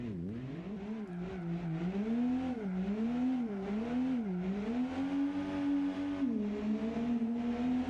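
A car on a drift track in a video game gives a smooth engine drone that rises and falls repeatedly as the throttle is worked, sustained and fairly close.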